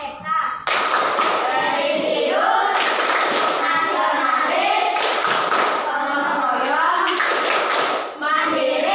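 Children in a kindergarten class clap for a classmate, bursts of group clapping mixed with loud young voices chanting together, close and lively throughout.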